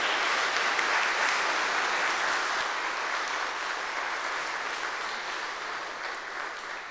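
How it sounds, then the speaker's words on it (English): A church congregation at a Sunday worship service claps in welcome, a broad, even applause that holds steady for several seconds and slowly tapers off. "Do you want to welcome them with a round of applause?"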